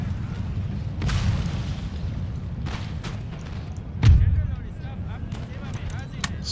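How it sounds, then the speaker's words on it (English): Artillery booms in an Empire: Total War battle, several distant thuds scattered across the stretch with one heavier blast near the end, over a steady low battlefield rumble and a voice talking. "Stop the artillery."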